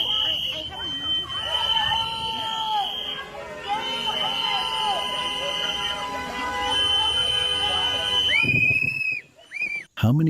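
Shrill, sustained whistles blow over a noisy protest crowd, several tones overlapping, with voices chattering throughout and a few sharp whistle bursts at the end.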